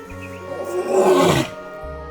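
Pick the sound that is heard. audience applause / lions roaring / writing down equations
lions roaring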